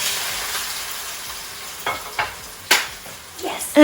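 Potatoes frying in a pan for a spicy potato curry, a steady soft sizzle punctuated by a few sharp bursts as they are stirred or turned, close and alone.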